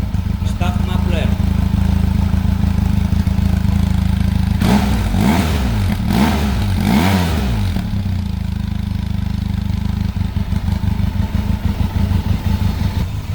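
A Benelli TRK502X motorcycle on its stock muffler idles loudly and close by. Two or three quick throttle blips rise and fall in the middle of the idle, and someone talks over the engine.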